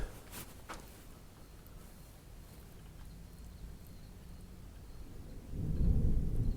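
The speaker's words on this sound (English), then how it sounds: "Loud ass thunder." A deep thunder rumble builds near the end, loud and low, after a stretch of steady background noise and a couple of brief sharp sounds early on.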